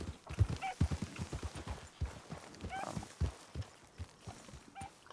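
Horse hooves clip-clop on the ground in the Red Dead Redemption video game, a rhythmic, fairly close series of thuds at walking pace, with a few faint high chirps mixed in.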